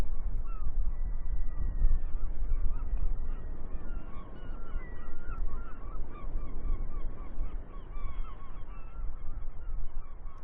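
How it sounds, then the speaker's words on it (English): Gulls call repeatedly over a busy waterfront harbour at the Barbican in Plymouth, with overlapping squawks and honking cries rising above a steady low rumble of ambient noise, loud and continuous throughout. "At this time of day, you can only hear the ever-present and disrespectful seagulls."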